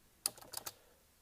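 A handful of quiet clicks from typing on an unfamiliar computer keyboard, tapped in a quick, uneven cluster over a faint background hiss.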